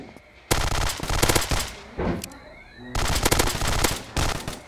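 Pecheneg machine gun in a video game fires in two long, loud, rapid bursts, separated by a short gap with lighter shots and ambient game noise.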